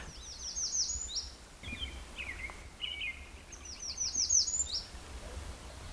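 Songbirds in quiet woods along the Cabot Trail in Cape Breton, clear repeated trilling phrases with a few softer chirps over a faint steady stream murmur and no wind.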